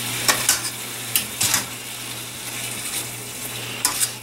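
Pizza toppings simmer on the stove with a low, steady sizzle and bubbling under a constant hum, punctuated by several short scraping stirs and light utensil taps.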